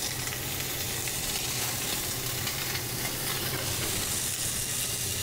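Sous vide pork belly slices searing in a hot pan, a loud, dense, continuous sizzle that holds steady throughout.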